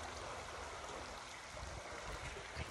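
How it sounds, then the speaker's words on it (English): Steady, broadband rush of creek water flowing in a garden setting, continuous and fairly close throughout with no talk over it. "Then right here, of course, is the creek."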